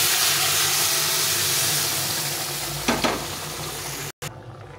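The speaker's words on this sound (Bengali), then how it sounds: "এখন আমি এখানে ডালটা ছেড়ে দেবো।" Boiled chana dal goes into a pan of frying spices, giving a steady close sizzle and hiss with a brief stir-like scrape near the end, then a sudden cut-off.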